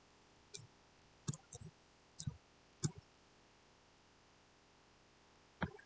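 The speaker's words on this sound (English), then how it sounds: "I won't even notice since I'm typing stuff" Scattered keystrokes on a computer keyboard, a few isolated clicks and short clusters separated by pauses, quiet and close, with no talking.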